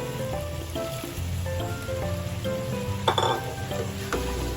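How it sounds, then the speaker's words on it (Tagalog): Pieces of pork go into a hot pan for sweet and sour pork, giving a steady crackling sizzle with a few clinks of stirring and no talking. "Ngayon, pwede na natin ilagay ang ating pork."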